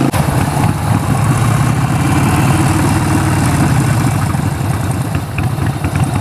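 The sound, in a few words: Harley Davidson 48 Sportster motorcycle engine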